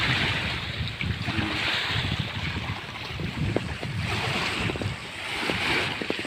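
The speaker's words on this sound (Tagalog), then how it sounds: "Lakas ng alon guys." Strong sea waves slap and surge around a small boat out on open water near mussel farms, with steady gusting wind buffeting close and loud throughout, and no voices.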